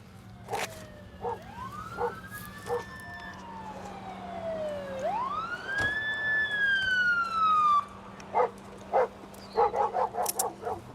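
A police car siren wails in long rising and falling sweeps at moderate distance, with sharp dog barks from a K9 unit breaking in before and after.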